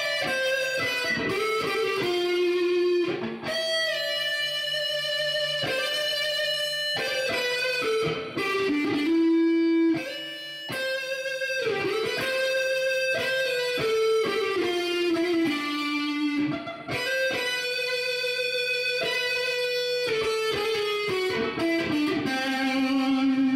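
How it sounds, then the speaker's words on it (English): Chibson and Gibson electric guitars with Iron Gear pickups play through echo and overdrive, sustained distorted notes and chords ringing out with repeating trails, loud and continuous without any talking. "This time, an echo overdrive sound."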